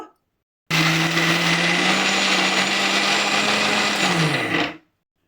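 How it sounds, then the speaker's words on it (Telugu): A kitchen mixer grinder whirs loudly and steadily for about four seconds while blending chopped ingredients with salt into a smooth batter, starting abruptly and winding down at the end. "మనం వీటిని మిక్సీ వేసుకోవాలి మెత్తగా"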